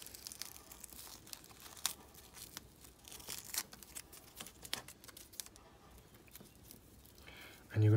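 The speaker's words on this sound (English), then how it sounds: "Take this tape off." White tape being peeled off a spliced rope, heard as a run of crinkly, tearing crackles over about eight seconds, close and fairly quiet, with a louder burst at the end.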